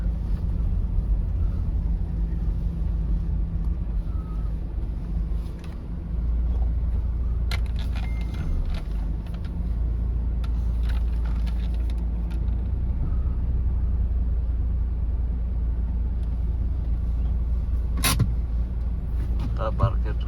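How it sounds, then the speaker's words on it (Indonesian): A car pulling into a shady parking spot gives a constant low engine and cabin rumble heard from inside, with faint clicks and a brief sharp rattle near the end and some quiet talking. "kita parkir sini aja teman,"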